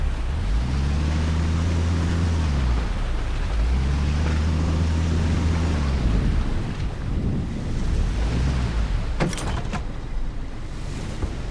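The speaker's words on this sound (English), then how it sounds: "Pull the boat up to the dock and switch the engine off." Motor boat engine idling and rumbling at a dock in the video game Hell Let Loose: Vietnam, a steady low drone with wind and water noise, pulsing in long swells before easing, with a brief sharp click near the end.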